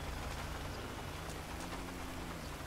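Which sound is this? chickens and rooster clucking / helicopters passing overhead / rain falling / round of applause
rain falling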